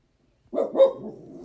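An almost ten-year-old female dog gives one short, close bark that trails into a brief growly rumble, alone in a quiet room.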